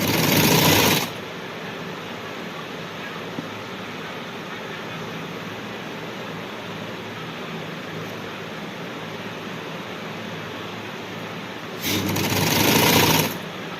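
Sewing machine stitching a tulip shalwar, running in one long continuous burst of rapid, even stitching, with brief louder spells at the start and end, up close and with no talk.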